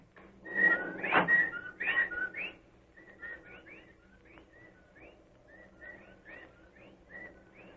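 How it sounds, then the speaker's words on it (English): Whippoorwills calling at night as a sound effect in an old suspense radio drama, a run of repeated whistled bird calls, louder and overlapping at first, then softer and evenly spaced against a quiet hiss. "Well, there are the whippoorwills."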